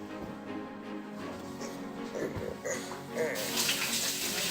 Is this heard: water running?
yes